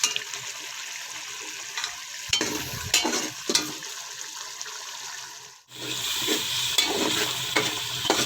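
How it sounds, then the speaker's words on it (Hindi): Peas and masala fry steadily in a pan with a constant sizzle, and a spoon scrapes and stirs through them several times. The sizzling pauses briefly and then picks up again. "अब मैंने मटर की बुनाई अच्छी से कर ली है।"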